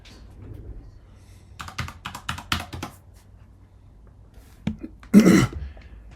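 Keys clacking on a computer keyboard as a two-factor authentication code is entered, a short burst of quick separate taps in a quiet room, followed by a throat clearing or cough.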